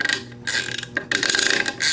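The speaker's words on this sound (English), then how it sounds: "they are ratcheted inside the bolt. There's a J-spring in there doing that" Captive Torx bolts on an FN SCAR being undone, a close, continuous ratcheting click from the internal J-spring, buzzing in bursts with brief pauses between turns.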